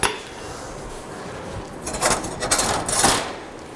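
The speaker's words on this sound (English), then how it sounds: "pick up my hammer and hit it" A blacksmith's hammer strikes hot steel during a forge weld, with a cluster of ringing metallic blows coming close and loud in the latter half after a quieter stretch.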